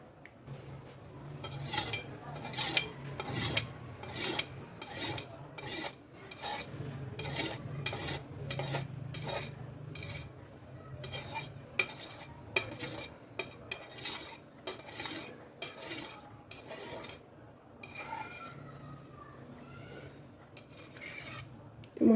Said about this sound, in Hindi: तो इन सबको मैं मिक्स करती जा रही हूँ।